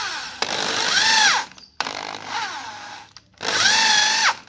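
Power drill driving a light steel screw into wood, three close bursts of whirring motor, each winding up and then dropping away as the trigger is released, with short quiet gaps in between.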